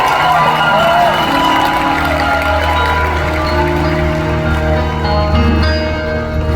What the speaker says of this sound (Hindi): जगजीत साहब के लिए पर जोरदार तालियां हो जाए